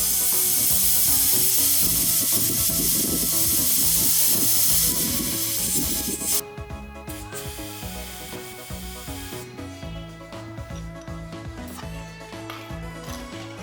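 Air hisses out of a tire being let down to low pressure. A loud, steady rush lasts about six seconds, then drops to a lower, uneven hissing and rattling for the rest.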